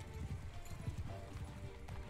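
Horse hooves clip-clopping in the video game Mount & Blade II: Bannerlord, a quick uneven patter of hoofbeats, fairly faint amid game ambience.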